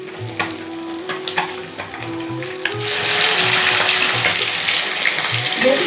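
A generous pour of cooking oil sizzling in a frying pan for a fish curry, with a close hiss that swells and stays loud and steady through the second half, alone without talk.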